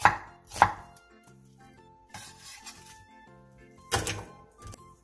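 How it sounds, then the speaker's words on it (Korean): A knife slices one onion into thick strips on a cutting board, giving several crisp, close chopping knocks in uneven bursts with quiet gaps between them. "양파 1개를 1cm 정도 두께로 채 썰어주세요"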